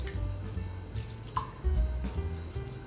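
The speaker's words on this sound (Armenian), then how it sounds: "ավելացնում եմ սովորական 1 բաժակի չափով ջուր և ոչ ավել" About a cup of water is poured into a cooking pot for Armenian khashlama, splashing and dripping in short, close bursts with a tap-like trickle.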